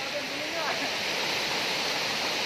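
Steady rushing of cold river water around someone washing off in it, a loud close broadband wash with no clear breaks and a voice faintly mixed in.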